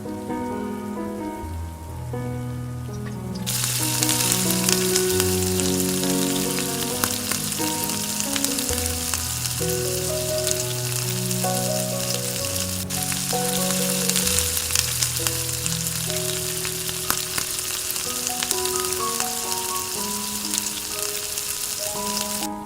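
Breadcrumb-coated eggplant slices frying in hot oil, a loud, dense, continuous crackling sizzle beneath steady background music after a quiet start.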